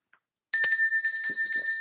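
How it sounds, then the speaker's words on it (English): A bell struck once to open a trivia round, ringing out suddenly after a moment of silence with a bright, sustained metallic tone and a few quick follow-up strikes or rattles as it rings on. "Michelle, ring the bell."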